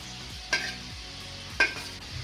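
Grated coconut being stirred in hot ghee in a pan on the stove, a soft steady sizzle with two sharp scrapes of the spoon against the pan, no voices.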